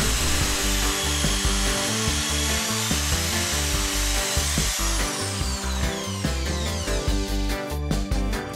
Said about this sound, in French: Vous enlevez votre guide et vous percez à main levée.